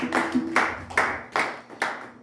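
A congregation at a church service claps together in a steady, loud rhythm of about five strong beats, each a dense burst of many hands. No one speaks.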